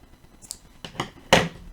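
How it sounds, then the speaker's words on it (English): Scissors snip through crochet yarn at a granny square Christmas ornament, a few soft clicks leading into one sharper, louder snip near the end, close and quiet with no talking. "And we are going to cut a yarn"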